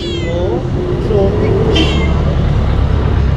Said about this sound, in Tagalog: Parang ito ang pinakamalaki mong pusa ah.